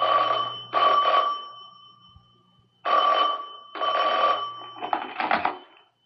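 Old-fashioned telephone bell from a radio mystery drama, ringing in four long electric bursts with pauses between, close and clear, followed by a brief rustling handling sound as the receiver is picked up.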